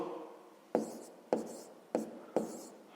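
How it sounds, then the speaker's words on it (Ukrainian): A pen scratches out a sixth-grade math exercise on paper, four or five short strokes in a steady rhythm, close and quiet, with no voice. "Записуємо тоді друге завдання."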